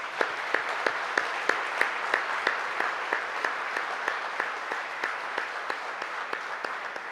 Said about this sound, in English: if anything deserves a round of applause